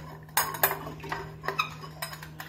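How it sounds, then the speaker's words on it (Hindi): Metal idli stand moulds are greased with ghee for stuffed masala baati, giving a run of light, close clinks and taps against a steady low hum. "इस तरह से हम सारे सांचों में घी लगा देंगे।"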